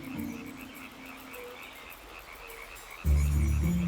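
A toad in the Carpathian mountains croaks in a steady series of low, pulsing calls, with a louder, closer burst of deep croaking toward the end, outdoors with a faint background of other amphibian calls.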